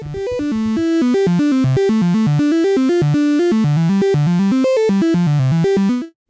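A continuous stream of uniformly random notes from a VCV Rack modular synth jumps unpredictably in pitch at a steady, fast rate, loud and bright, stopping abruptly at the end.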